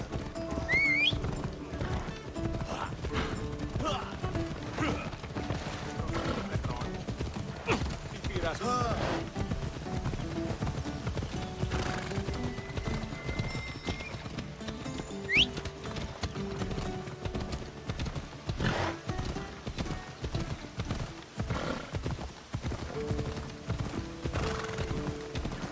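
Horse in the video game Assassin's Creed Odyssey: steady clip-clop of galloping hooves runs throughout, with repeated neighs and whinnies, game sound effects and occasional talk mixed in.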